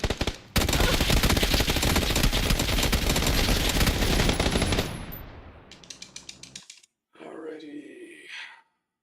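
Rapid automatic gunfire from the Splitgate 2 arena shooter, a dense, loud continuous burst for several seconds, then scattered sharper single shots, a brief silence and a short muffled burst of game noise.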